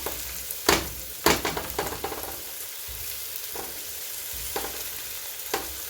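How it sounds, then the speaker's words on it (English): Peppers sauté in a pan for ropa vieja, a constant hiss of frying broken by several loud scraping stirs as a utensil pushes them back and forth, close and without speech. "we're gonna let that saute for a little bit"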